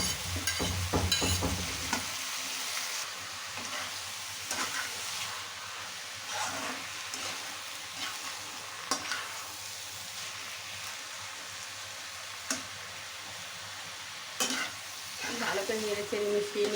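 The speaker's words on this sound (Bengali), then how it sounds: "ভালো করে নেড়ে চেড়ে মিশিয়ে নেব।" Boiled cabbage being stirred into spices in a frying pan, with steady scraping and clattering strokes over a soft sizzle, louder at the start and then continuing evenly throughout.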